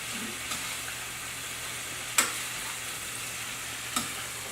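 Green beans, zucchini and squash frying in a small skillet give a soft, continuous sizzle, with two or three brief clinks of a utensil against the pan and no voices.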